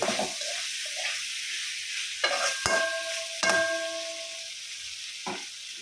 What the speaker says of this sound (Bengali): আলুগুলা খুব সুন্দর করে একটু কষায় নিচ্ছি